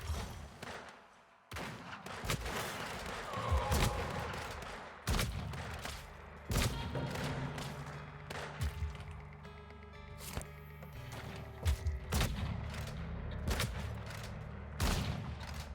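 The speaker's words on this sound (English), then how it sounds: "I'm shooting the rifle." Rifle shots crack repeatedly in the Weird West video game, a run of sharp, loud bangs at irregular intervals with ringing tails and short gaps between.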